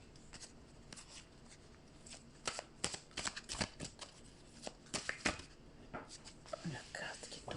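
A deck of playing cards shuffled by hand before one card is drawn: irregular bursts of riffling and snapping close by, fairly quiet, with soft murmured speech between the shuffles.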